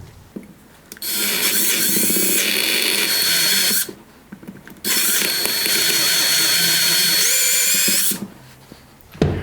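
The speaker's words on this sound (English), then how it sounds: "And when you're drilling the hole, just be very careful." A power drill whines loudly in two long sustained runs, with a brief pause between them, close up, drilling through a plug on a Yamaha Virago 1100 motorcycle carburetor.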